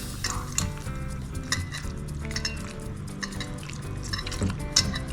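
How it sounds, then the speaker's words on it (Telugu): Wet squelching and squishing as hands knead soaked tamarind pulp for Telangana-style pachi pulusu, a loose, irregular run of soft splashes and drips close up with no talking. "ఈ గుజ్జు అంతా ఇట్లా పిసికి ఈ గుజ్జు అంతా పడేసేయాలి"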